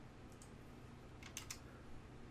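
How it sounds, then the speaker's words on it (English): Faint, sparse keyboard clicks as a value is typed in on a computer: a few light taps early, then a short cluster of sharper keystrokes near the middle, quiet and close with no talking. "I can literally type it in"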